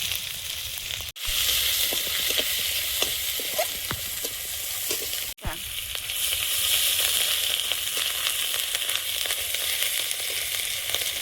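Dry red chillies, whole garam masala, cumin seeds, bay leaf and crushed garlic sizzling steadily in hot oil left from frying aubergine in a wok, a continuous close hiss with occasional crackles and a couple of brief cuts.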